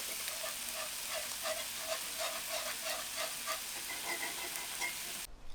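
Beer brat nacho ingredients are mixed on a PitBoss flat top griddle, a continuous faint sizzle with a soft, regular scraping rhythm from the spatula, with no voices.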